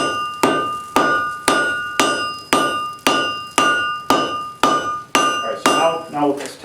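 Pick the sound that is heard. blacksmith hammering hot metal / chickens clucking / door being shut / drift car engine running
blacksmith hammering hot metal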